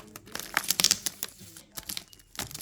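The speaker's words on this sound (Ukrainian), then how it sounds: "Беремо цей наш мега серйозний скотч." Packing tape pulled off a roll and torn while packing beeswax foundation sheets, giving a run of close, loud crinkling rips and crackles with short pauses between bursts.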